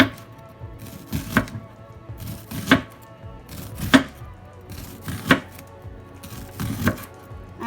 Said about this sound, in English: Then I'm going to cut the onion in circle